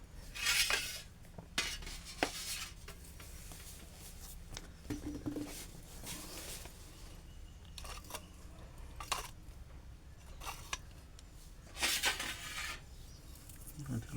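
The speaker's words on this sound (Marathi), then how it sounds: "आता मी किसणीने ते किसून घेतो" White turmeric root is scraped across a metal grater for pickle, giving irregular rasping strokes and scratchy bursts close by, with occasional clinks of kitchenware in a quiet room.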